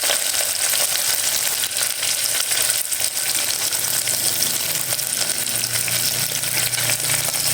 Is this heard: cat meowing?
no